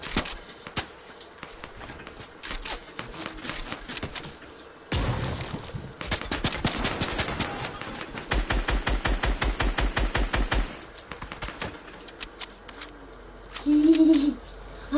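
Gunfire in a Fortnite match on PS4, bursts of rapid automatic shots in rhythmic volleys mixed with quieter single shots and footsteps, fairly close, a short tonal game effect near the end.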